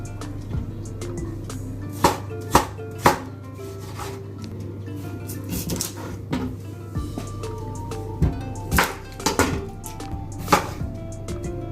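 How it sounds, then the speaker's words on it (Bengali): Cucumber and other salad vegetables are cut with a knife on a board, with irregular bursts of crisp, close chopping strokes separated by short pauses. "একটু সালাদ কেটে নিই।"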